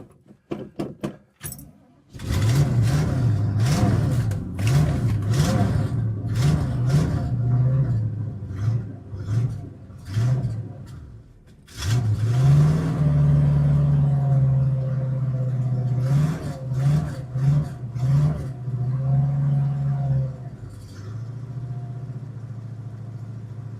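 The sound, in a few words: 1964 Ford Mustang engine revving toward idle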